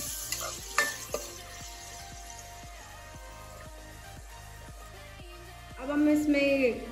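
Onion, ginger and garlic paste stirred and frying in hot oil, a steady close sizzle with spoon scrapes, swelling louder near the end.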